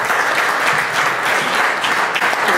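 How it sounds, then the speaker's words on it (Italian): A crowd at a memorial gathering for Massimo Rappoccio breaks into loud, continuous applause, a dense wash of many hands clapping without pause for the whole stretch and no voices rising above it. "facciamo un grande applauso a Giusto Branca qui con noi"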